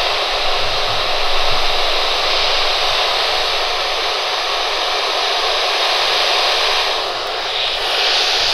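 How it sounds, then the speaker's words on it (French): A spirit box radio scans through static, a steady loud hiss of hissing white noise that runs continuously with slight wavering and a brief dip near the end, with no voices over it. "démarrer une séance de Spirit Box"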